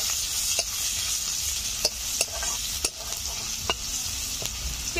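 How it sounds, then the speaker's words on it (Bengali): Dry red chilli, a bay leaf, whole cumin and chopped medium onion frying in oil left over from frying potatoes, a bright continuous sizzle with periodic spatula clacks and scrapes, close up with no voices. "আলু ভাজার পরেও অনেকটা তেল রয়ে গেছে, দিয়ে দিচ্ছি একটা শুকনো লঙ্কা, একটা তেজপাতা, গোটা সাদা জিরে, দিয়ে দিচ্ছি পেঁয়াজ কুচি"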